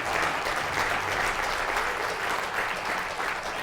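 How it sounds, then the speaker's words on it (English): Audience at a Make-A-Wish charity evening applauding the hosts, a full room clapping in a dense, even roar throughout. "can we all give a round of applause to our wonderful hosts, James and Kate, who have donated their time tonight for Make-A-Wish"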